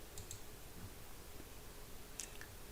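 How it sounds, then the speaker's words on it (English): A mouse clicks on a software lock button in a quiet room, giving a few faint, brief clicks spaced apart against low background hiss. "we're going to do here is going to click this lock button"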